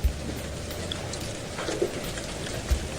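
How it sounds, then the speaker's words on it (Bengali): Rain and hail fall during a nor'wester thunderstorm, a dense steady patter of drops on surfaces with a few louder thumps of impact, with no talk. "শিলা বৃষ্টি শুরু হয়েছে, দেখো।"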